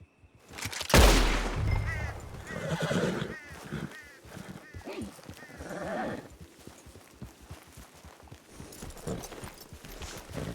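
Horse galloping and neighing in the Red Dead Redemption 2 video game, with a loud burst of hoofbeats and whinnying near the start, then continuing hoof movement and game sounds fading under steady background noise.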